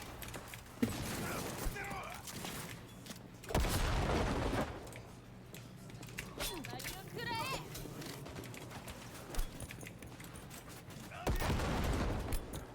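Gunfire in the video game Cyberpunk 2077, with bursts of shots and loud bangs scattered among mechanical clicks, while someone talks over the action at moderate volume.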